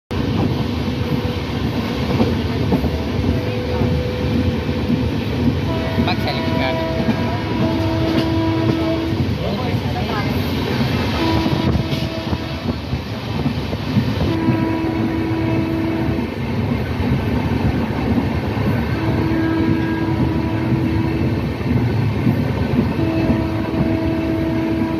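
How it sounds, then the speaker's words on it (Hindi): The Howrah–Ahmedabad Express arriving at Anand station, with a continuous heavy rumble of rolling wagons and repeated horn blasts, loud and close, under intermittent talk. "हमारी ट्रेन पहुंच चुकी है आनंद"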